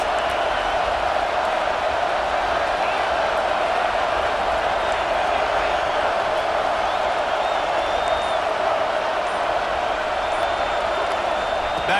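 Steady, dense roar of a stadium crowd at an Ohio State vs Alabama game in College Football 26, a continuous wash of cheering and murmur with scattered whoops, holding at an even loud level throughout.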